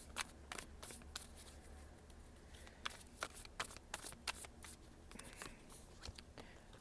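Tarot cards shuffled by hand, a quiet series of crisp riffling bursts and flicks at irregular intervals, close and alone without talk.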